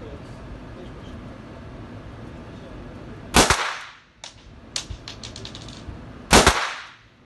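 9 mm Luger pistols, Codex and Özkursan, firing at a shooting range: two loud, sharp shots with a short echoing decay, separated by a quick series of fainter cracks and clicks, heard close with no talking.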